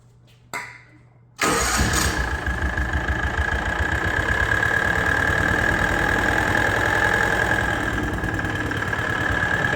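An engine with a knock cranks briefly after a short click, then fires and settles into a loud, steady idle with a rapid rhythmic knocking pulse running underneath the whole time.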